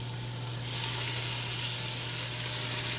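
Vegetables for butternut squash soup sauté in a pan, giving a steady, close sizzle that swells after a brief quieter start and holds at an even level with no voices.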